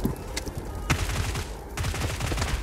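Rapid bursts of automatic gunfire crackle in PUBG Mobile on the Nusa map, dense repeated shots with a few sharp, louder reports standing out over a continuous barrage.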